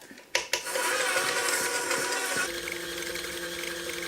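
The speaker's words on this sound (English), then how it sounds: "we're just going to pop the whisk back on and mix this up" An electric mixer with a whisk attachment creams butter and sugar for cranberry orange bread, starting with a couple of sharp clunks and then settling into a steady, even whir with no talking.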